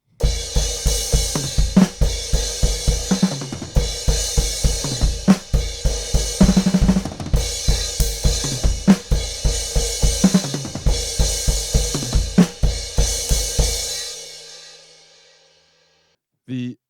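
Full drum kit playing a song's ending, a driving beat with snare, toms and repeated crash accents, ending in four crashes that ring out and fade, loud and close throughout.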